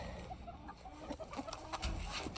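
Hens and white roosters of mixed breeds cluck in a backyard flock, a scatter of short, soft calls close by with no talk over them.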